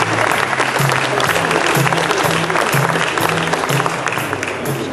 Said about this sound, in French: je vous demande d'applaudir Serge Morin